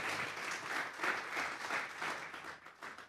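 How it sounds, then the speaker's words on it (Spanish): A church congregation claps hands in praise to God, a dense sustained burst of applause with rhythmic swells, moderately distant and steady, fading slightly at the end. "Vamos a darle una ofrenda de palmas a Dios."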